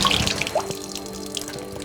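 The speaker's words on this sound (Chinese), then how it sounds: "先把手洗一下吧。 哇，好冰凉呀！" Hands are washed in cold mountain spring water on a cliff-top in Guizhou, a short close splash and trickle of running water with a few drips, no talk over it.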